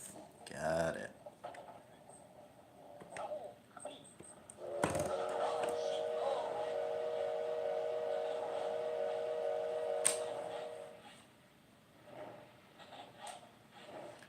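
A train in a Japanese train simulator game hums along steadily for several seconds, with a brief whistle-like blast and some clunks; faint talk comes and goes around it.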